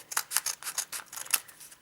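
Scissors snip through a Pokémon card mail package on a desk, a quick run of sharp, close crisp cuts in an irregular rhythm, with no talking.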